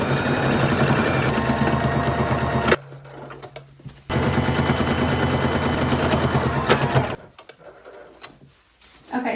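A sewing machine stitches the shoulder seams of a top with right sides together, running in a steady close whir, pausing briefly, then resuming before stopping near the end.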